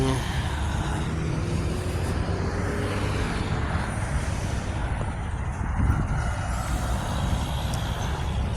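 Vehicle traffic passes near a beach in Umm al Quwain, a constant broadband rumble and hiss of engines and tires, moderately distant and steady throughout with no clear individual passes or voices.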